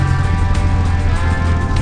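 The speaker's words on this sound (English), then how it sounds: "you can really feel it when you choke the engine" A 1959 AJS Model 31 motorcycle idles on choke, a close, loud, steady engine drone with a low, even throb throughout.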